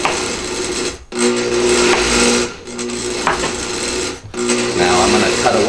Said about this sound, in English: start the blender again